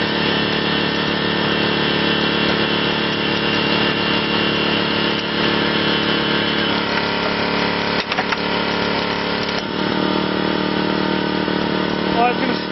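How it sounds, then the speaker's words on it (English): A hydraulic rescue ram forces a car's dashboard upward during a road-crash extrication training drill, making a loud, steady mechanical drone. Metal creaks and brief cracks come through around the middle of the clip. "we're going to ram the dash up and see what happens"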